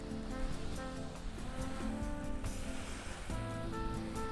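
Gulf waves wash onto Vanderbilt Beach in Naples, a soft continuous surf wash with gentle swells, faint and steady with no voices.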